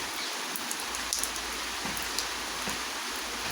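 Rain falls steadily outdoors around a hermitage, a constant broadband hiss with scattered drips, close and unbroken, with no voices.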